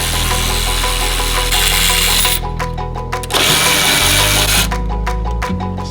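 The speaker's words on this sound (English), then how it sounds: "Step one, removing the bolt out of the bottom of the factory strut." A power tool, likely an impact driver or drill, runs on the bolt at the bottom of a factory strut on an Audi RS3. It gives steady loud whirring with brief pitch shifts and short pauses, alone with no voices.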